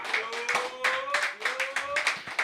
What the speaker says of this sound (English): Clap it up for them once.